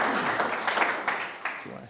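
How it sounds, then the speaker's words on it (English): Audience applause at a startup pitch session, a short burst of clapping from a crowd in a hall that fades out within two seconds. "Round of applause as well."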